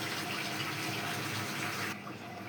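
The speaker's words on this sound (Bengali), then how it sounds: "লাউগুলো ধুয়ে নিলাম।" Tap water gushes steadily into a sink while pieces of bottle gourd are rinsed under it, a continuous close splashing flow that eases slightly near the end.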